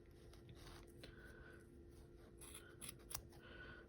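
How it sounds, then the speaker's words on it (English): Scissors snip yarn while a knitted pom pom for a hat is trimmed, a few quiet, close clicks and rasping cuts over a faint, steady background hum. "Need to get sharper scissors."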